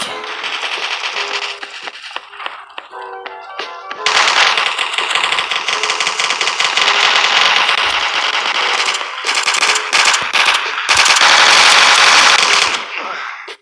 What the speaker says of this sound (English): We'll show you the full auto pistol, just so you can see what its recoil is like